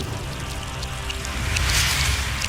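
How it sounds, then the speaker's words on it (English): Steady rain falls in the video game Wuthering Waves, a dense even hiss of drops on surfaces that swells slightly toward the end, with no voices. "Until the retroact rain began to fall."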